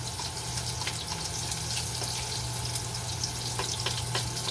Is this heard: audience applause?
no